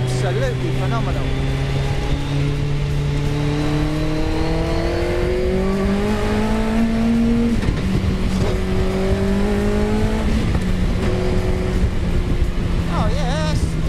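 An MK Indy kit car with a Suzuki Hayabusa GSX1300R engine accelerates hard, its close, loud engine note climbing through several gear changes with brief drops between shifts.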